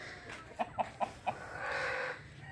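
Backyard chickens at feeding time give four quick clucks in a short run, followed by a soft rising hiss of background noise, at moderate distance.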